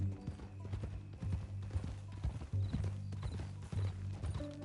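Steady clip-clop of horse hooves in a ranch-set video game, a regular trotting rhythm close and clear, with low game music or ambience running underneath and no voices.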